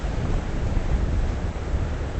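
Ocean surf with whitecaps breaking at the end of a jetty, a steady broadband wash of waves and wind that rolls on without pause, with no voices.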